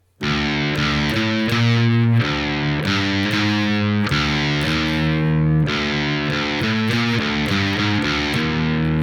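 Heavily distorted electric guitar strumming chords slowly and steadily, thick and loud, with brief gaps as the chords change, an open note ringing at each switch.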